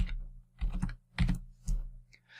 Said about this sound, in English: So that's typing in some source code.